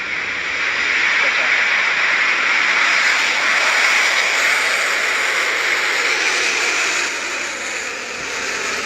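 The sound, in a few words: Electron rocket engines roaring at launch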